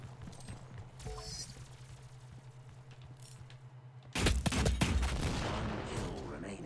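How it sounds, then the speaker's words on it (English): Gunfire from an online DOOM team deathmatch, a steady background hum first, then a loud dense burst of shots and explosions erupting about two-thirds through and continuing to the end. "Who's shooting me?"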